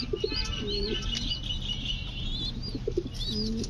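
A blue satin pigeon coos in low, rolling phrases, twice in close succession, while smaller birds chirp and tweet over a constant background hum.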